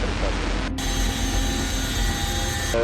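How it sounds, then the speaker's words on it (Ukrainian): An Il-76 military transport aircraft's jet engines roar loudly and steadily, with a sharp cut partway through. "Вісімнадцять літаків Іл-76 завантажуються десантом для вирішального штурму Києва."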